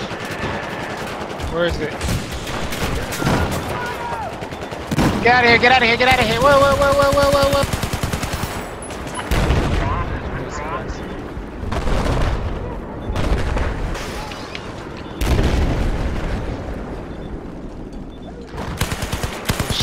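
Repeated bursts of automatic gunfire and heavy booms in Battlefield 4 multiplayer, with a tank nearby, come in loud, dense volleys that fade and return over the course of the clip, while players speak occasionally.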